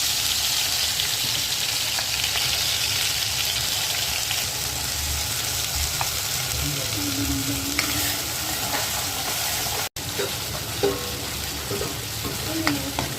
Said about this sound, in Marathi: आता हे वाटण टाकू तेलामध्ये